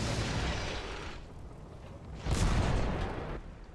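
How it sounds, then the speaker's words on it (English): Booming cannon shots in World of Tanks from the Somua S-35 CA tank destroyer firing at a distant Panzer III: one heavy blast at the start and another a couple of seconds later, each rumbling out with a long low tail and no speech. "Take a shot at the distant Panzer III,"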